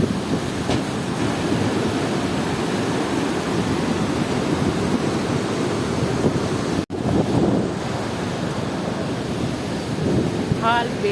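Mandakini river in full flood on the Kedarnath trek, a loud, steady roar of rushing water filling the whole clip, with a brief dropout near the middle.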